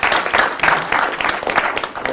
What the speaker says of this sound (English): You're allowed to applaud yourselves.